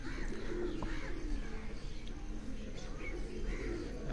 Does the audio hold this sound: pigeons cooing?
yes